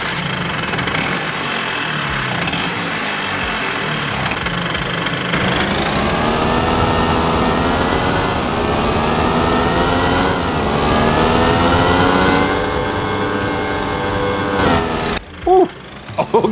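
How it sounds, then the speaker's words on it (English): A Riberi RS100 tractor engine in a farming video game drones loudly while driving, its pitch climbing and shifting as it accelerates, before cutting to a brief pause and clunk at the end. "that is definitely some different engine sounds right there"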